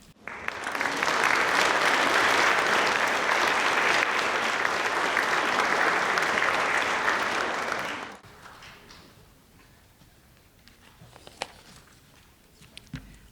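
Loud, dense audience applause fills a hall at the Yakima Youth Awards 2019 evening for about eight seconds, then cuts off, leaving a quiet room with scattered faint noises.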